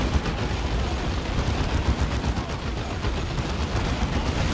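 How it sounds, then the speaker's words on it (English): Artillery barrage in the strategy game Dawn of War 2: Retribution, a dense, continuous rumble of rapid gunfire and blasts with no break, loud and close throughout. "There's a barrage again."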